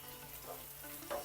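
Spices frying in a pan for taro masala sizzle steadily while being stirred, a close, continuous crackle with a brief scrape of the spoon near the end.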